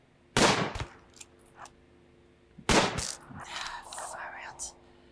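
Gunfire from colonists shooting zombies in the modded video game Rimworld: two loud, sharp bursts of shots about two seconds apart, each trailing into scattered softer noise and faint voices.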